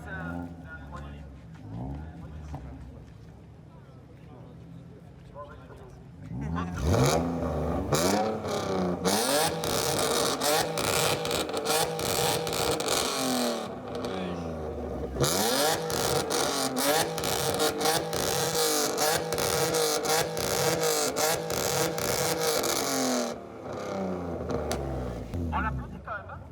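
Performance cars at a French car show, among them a 3-litre engine and a Mazda MX-5, rev hard in loud repeated bursts after a quieter opening, with crowd chatter and cheering underneath.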